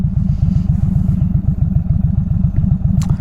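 Motorcycle engine while riding through a right turn in cold weather, a close, loud, steady low pulsing throb at even rhythm, with wind buffeting and a brief high squeak near the end.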